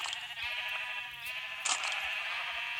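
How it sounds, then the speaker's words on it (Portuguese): A sheep bleats in a video game, a sustained wavering cry carrying through most of the moment, with a brief sharp noise burst near the middle and no talk. "Tem até ovelha no inferno."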